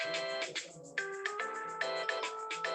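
A phone ringtone plays a bright repeating electronic melody, its notes pulsing in a steady pattern, clear and fairly close with no talking over it.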